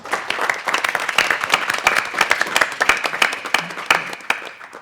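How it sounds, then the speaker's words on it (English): A live audience at a PMI UK Agile Question Time event in 2019 gives a hearty round of applause: many sharp, distinct hand claps form a loud, sustained burst, with no speech over it. "give yourselves a massive round of applause"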